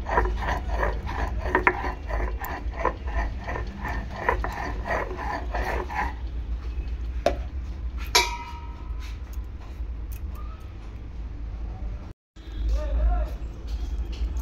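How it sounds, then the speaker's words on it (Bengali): Poppy seeds being ground into a paste for a Bengali jhinge posto dish, giving a rhythmic, scraping grind of stone on seeds that repeats in close strokes, then thins into sparser rubbing and a few clicks. "এই যে পোস্তটা এবার বেটে নেব।"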